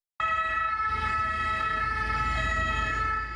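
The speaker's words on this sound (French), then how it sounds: "Ces sirènes hurlantes que le convoi a rejoint l'hôpital de Sainte-Musse à Toulon" Ambulance sirens from a convoy of striking ambulance drivers arriving at Sainte-Musse hospital in Toulon start abruptly and hold a loud, steady layered wail over a low road rumble.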